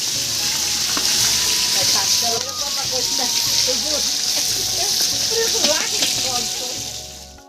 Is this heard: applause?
no